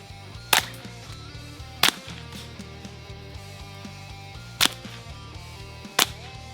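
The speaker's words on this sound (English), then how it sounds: "The hogs are dispatched in the trap with a shot to the head from a suppressed .22 rifle." Suppressed .22 rifle shots used to dispatch wild hogs inside a trap: four sharp, loud cracks spaced unevenly over a steady low hum, nothing else in between.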